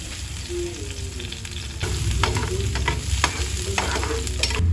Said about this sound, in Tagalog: Tayo po yung magigisa na ng ating ampalaya